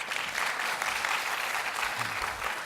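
Audience applause welcoming a speaker to the stage at a Korean software policy forum, a dense, steady wash of many hands clapping that holds evenly for the whole stretch without any voices.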